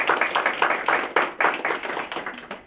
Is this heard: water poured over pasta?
no